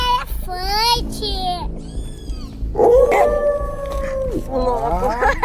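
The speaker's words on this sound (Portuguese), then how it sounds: "O lobo." Wolf howls rise and fall in long wavering tones during pretend play in a forest, with a voice heard among them.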